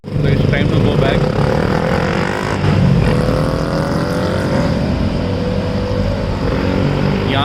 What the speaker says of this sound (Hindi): ये बाइक वाले इतने छोटी सी मोटरसाइकिल में 100-150 सीसी की मोटरसाइकिल में साइलेंसर उसका बड़ा करवा लेते हैं, वो इतनी तेज़ आवाज़ करती है